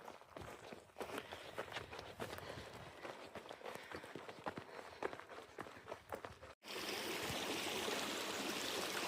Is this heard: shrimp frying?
no